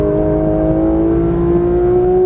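A Porsche 991.1 GT3 engine pulling hard on a racetrack, a loud, steady high-pitched wail with strong harmonics and a constant rumble underneath, heard from inside the car.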